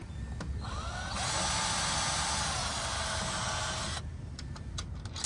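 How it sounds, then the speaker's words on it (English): A small power drill bores a pilot hole roughly 1.5 mm wide into a toilet seat, a steady high whine lasting about three seconds that starts and stops abruptly, followed by faint clicks. "So we're going to drill a nice little, that looks like a 16th or 5/64,"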